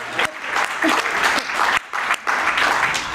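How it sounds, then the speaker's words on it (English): Loud, dense applause from a large audience at an annual grant-giving event, continuous clapping with two brief dips in intensity. "You ought to give yourselves a round of applause"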